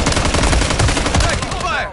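Rapid automatic gunfire in the video game Modern Warfare III, loud, dense bursts of overlapping shots filling the whole moment with no pause.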